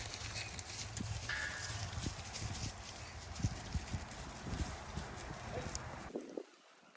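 Donkeys are moved out on foot, their hooves clopping in irregular, fairly close steps over a constant broad outdoor rumble that cuts off abruptly near the end.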